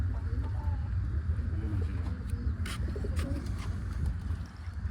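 Indian pigeons coo softly over a steady low outdoor rumble, with faint wing flutters and chirps in the distance, the calls quiet and intermittent rather than prominent.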